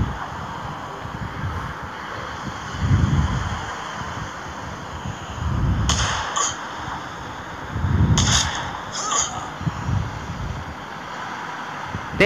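Sniper rifle gunshots in the City Sniper video game, several spaced booming shots over a steady windy background hiss, fairly loud.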